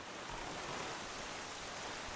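Steady, soft rain hisses evenly and without a break in The Legend of Zelda: The Wind Waker, a faint wash of falling water with no talk over it.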